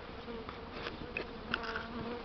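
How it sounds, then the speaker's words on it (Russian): Honeybees buzzing after being shaken off a swarm, a dense, continuous drone of many insects with individual bees whining past nearby, fairly faint and without voices. "струсил пчел"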